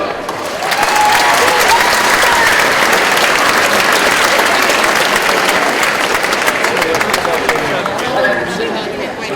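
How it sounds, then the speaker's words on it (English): A crowd breaks into loud, sustained clapping after a Division 4 league final between Meath Hill and St Bridgets, rising within the first second and holding strong, with some chatter mixed in before tapering near the end. "give them a round of applause"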